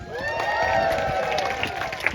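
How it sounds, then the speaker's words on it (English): An audience at a bird show at African Lion Safari gives a modest cheer for the volunteers, a blend of many voices calling out together, steady and moderately loud for a couple of seconds. "Do we have anyone cheering for these volunteers?"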